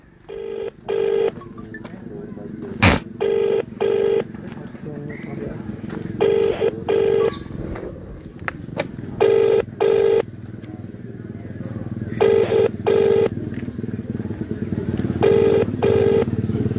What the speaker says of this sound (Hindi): ये देखो भी फोन मिला रहे हैं।